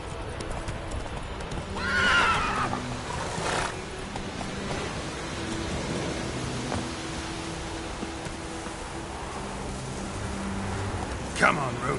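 Roach, Geralt's horse in The Witcher 3: Wild Hunt, trots with rhythmic hoofbeats and lets out a clear neigh early on, while someone speaks over the steady clip-clop.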